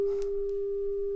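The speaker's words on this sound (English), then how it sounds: "it's not a triangle wave, but we've got a nice sine wave there" A Behringer Crave semi-modular synthesizer's LFO, set to triangle and routed to external audio, puts out a steady, pure sine tone that holds unchanged and alone throughout.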